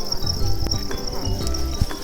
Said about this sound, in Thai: อันนี้คือจิ้งหรีดขาว